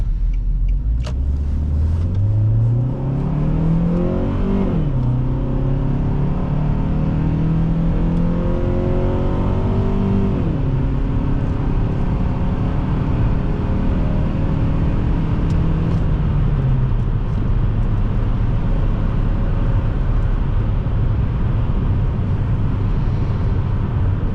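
A 2006 Nissan Altima 2.5 S engine accelerates from inside the car, its drone climbing in pitch through successive gear pulls, loud and continuous with no talk.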